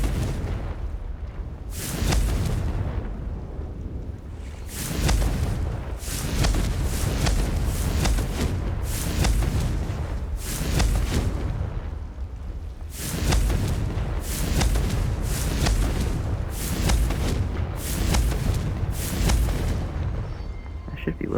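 Confringo fire-blast spell explosions in the video game Hogwarts Legacy, a long run of repeated booming bursts in quick rhythmic succession, loud and steady throughout.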